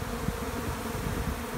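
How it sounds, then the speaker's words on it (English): A dense, steady hum of honey bees comes close and loud as a large mass of them piles into hives beside a moved truck, with no voices over the continuous buzzing drone. "Look at the bees just pile into these hives."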